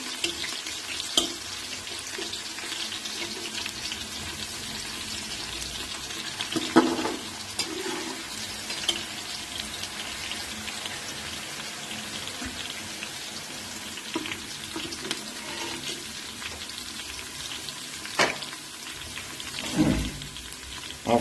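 Chicken browns in a hot pan with a continuous sizzling fry, broken by occasional louder stirring scrapes and splatters, close and steady throughout.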